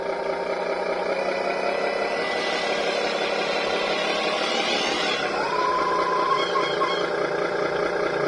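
Small electric motor of an RC Hino 500 model truck revving as the throttle is worked, a steady whirring drone that rises in pitch midway and then settles, heard close up without talking.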